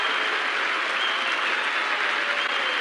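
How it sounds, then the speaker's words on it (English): A cricket crowd at a 1982-83 World Series Cup match stands and applauds David Gower's century, a dense, steady roar of clapping filling the ground without a break. "the crowd standing up and applauding the innings of David Gower"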